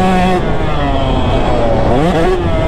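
Two-stroke dirt bike engine running loud and close, a steady buzzing drone with shifting revs throughout, being ridden after restoration, with no talk over it.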